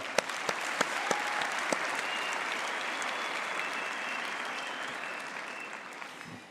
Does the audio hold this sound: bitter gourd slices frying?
no